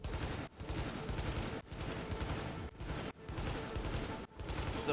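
Sustained bursts of SA-58 rifle fire in the shooter game The Division, four long fusillades of rapid automatic shots separated by brief pauses, loud and close.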